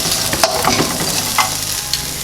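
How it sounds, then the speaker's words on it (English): Onions and potatoes fry in butter in a pan, making a loud, steady close-up sizzle with a few brief crackles and no voices. "Now we're going to add the onions,"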